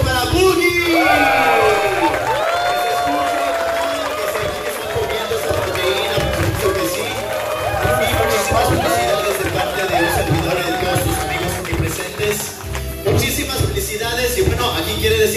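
An audience at a birthday party applauds and cheers with whoops and loud crowd chatter, a dense continuous roar of clapping and voices lasting throughout, with music tones ringing underneath.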